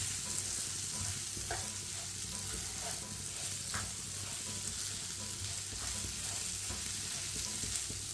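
Grated coconut sizzles steadily in a pan for poppy seed halwa, with soft scraping stirs and occasional light clicks of the spoon against the pan, close and continuous without speech.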